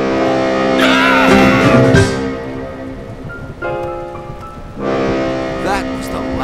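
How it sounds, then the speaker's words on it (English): A deep, sustained lighthouse foghorn blast sounds loudly, then sounds again after a short pause, with rain and other noise around it, in a cartoon. "That's the foghorn. It blares automatically in a pattern, even when the flashing light's not visible."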